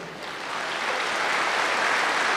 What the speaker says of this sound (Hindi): तो ज्ञान को अनुभव करने के लिए भले जोर से ताली बजाओ।